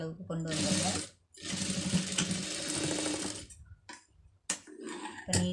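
A sewing machine stitches through layers of fabric in close, loud runs of rapid whirring needle strokes: a long burst, a brief pause, another long run, then a few short stop-start bursts.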